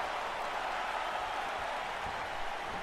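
Video game crowd from WWE 2K19 during a women's wrestling match, a steady wash of arena cheering and murmur at moderate level with no distinct peaks, filling the whole stretch.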